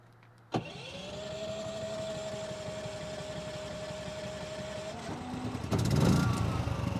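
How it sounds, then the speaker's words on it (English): A portable generator remote-started outdoors kicks in abruptly after a brief quiet moment, then settles into a steady droning run with a constant tonal hum. The sound grows louder and rougher toward the end. "So now I'm gonna let this run for about a minute or two, because the generator has already been running"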